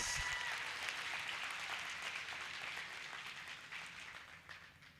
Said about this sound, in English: Give our graduates, ladies and gentlemen, a round of applause.